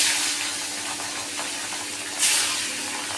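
Fish sizzles steadily as it fries in hot oil in a pan, a bright, even hiss close by with one brief louder spatter near the end.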